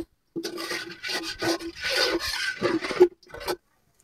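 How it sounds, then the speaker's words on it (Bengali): Spiced masala for chicken biryani, with cow's milk added, is stir-fried in a pot, giving close, rhythmic scraping and rubbing strokes of a spoon against the pan, in short repeated bursts with brief pauses. "এখন দুধটা দিয়ে মশলাটাকে আরো সুন্দর করে কষানো হবে।"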